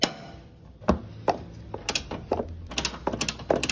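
A breaker bar on a Proton Persona engine mount bolt gives a string of sharp ratcheting clicks and metallic knocks, close and moderately loud, in irregular bursts with no talk.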